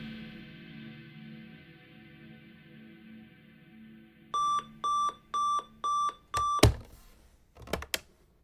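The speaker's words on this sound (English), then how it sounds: "So my alarm goes off and I head back into the kitchen." A digital alarm clock goes off with four evenly spaced, loud electronic beeps, followed by a sharp clatter and a couple of short knocks, as though the clock is silenced, with no one talking.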